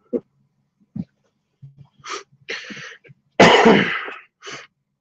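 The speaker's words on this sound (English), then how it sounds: "I keep getting dust sneezes and stuff because it's been very dusty here" A few short breaths and throaty snorts lead up to one loud, forceful sneeze from dust nearby, followed by a quick sniff.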